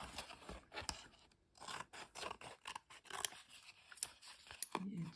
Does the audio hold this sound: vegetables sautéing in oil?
no